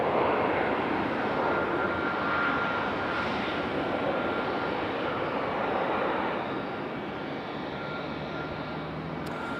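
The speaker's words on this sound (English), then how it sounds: "United about to get a move on, but our last plane of the show finally on the move." A United airliner taxis at Raleigh Durham airport, its engines giving a steady, loud whining roar that holds fairly even throughout before easing slightly near the end, with no voices.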